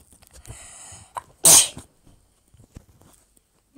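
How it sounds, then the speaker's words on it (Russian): A girl gives one loud, sharp sneeze close up, with faint rustling and small sounds before and after it. "когда я чихнула"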